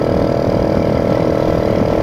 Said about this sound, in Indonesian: Motor ora kuat tanjakan iki